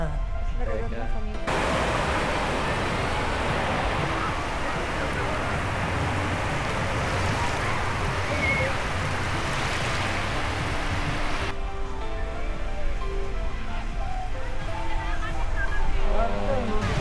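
Strong sea waves on a crowded beach near Nasugbu, a continuous heavy roar and wash of surf that swells and rolls through the whole stretch, with wind-like hiss and no clear talk.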